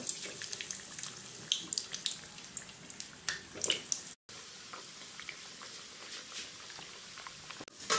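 Chicken nuggets fry in hot oil in a heated wok-style pan, filling the quiet kitchen with a continuous, soft crackling sizzle and scattered sharper pops, broken by one brief dropout.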